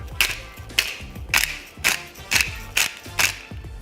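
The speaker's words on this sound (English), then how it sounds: "I'm gonna add some fresh cracked pepper." A pepper grinder cracks fresh pepper in a steady series of about seven crisp, ratcheting crunches, evenly spaced and close, with nothing else behind them.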